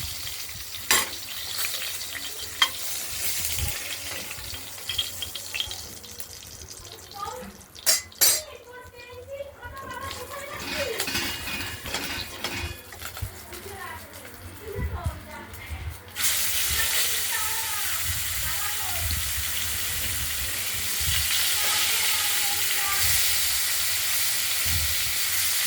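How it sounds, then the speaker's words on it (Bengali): Chital fish fries in a pan, a continuous sizzle with scattered clinks of utensils and stirring, growing louder and more hissing toward the end as the pieces go into the hot oil; a voice talks intermittently. "আবার এই দুটো মাছ ভাজা করে নিচ্ছি"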